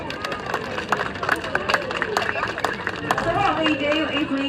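An audience claps and cheers for Bounty, a trained animal shaping behaviours to a target, with a ragged burst of applause and scattered shouts building toward the end, a voice speaking over it.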